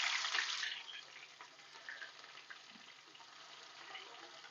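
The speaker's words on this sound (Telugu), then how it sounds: "సో ఫ్రై చేసుకున్న తర్వాత ఎగ్స్ తర్వాత అదే దాంట్లో ఉల్లిగడ్డలు ఫ్రై చేసుకుందాం మనం" Eggs and onions frying in a pan for egg curry, a bright hissing sizzle that starts loud and settles into a softer, steady crackle with small pops, close by and with no talk.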